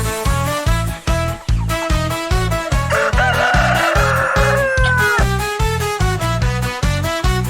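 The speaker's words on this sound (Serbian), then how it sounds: "A što se ti, Garfielde, bojiš petla?" A rooster crows over a steady, thumping beat in an animated children's song about animals and chicks.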